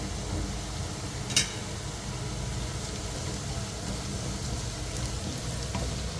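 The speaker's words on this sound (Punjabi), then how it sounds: "ਪਿਆਜ਼ ਲਾਈਟ ਬ੍ਰਾਊਨ ਹੋ ਗਿਆ ਹੁਣ ਇਹਦੇ ਵਿੱਚ ਥੋੜਾ ਜਿਹਾ ਕਸ਼ਮੀਰੀ ਲਾਲ ਮਿਰਚ ਪਾਊਡਰ ਜਿਹੜੀ ਆਪਾਂ ਐਡ ਕਰਾਂਗੇ" Onions fry in a pan as Kashmiri red chilli powder goes in, giving a continuous soft hiss and sizzle with one brief clink early on, steady and close with no talking.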